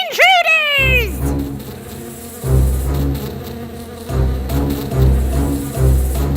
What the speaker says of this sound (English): Dorothy and her friends saw the bees flying towards them.